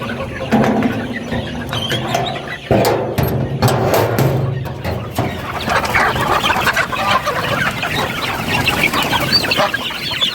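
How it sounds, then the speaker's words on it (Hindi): Several chickens cluck and squawk nearby, with busy overlapping calls and scuffling movement, growing into a lively flock chorus. "जल्दी से अपने मुर्गियों को हम बाहर निकालते हैं।"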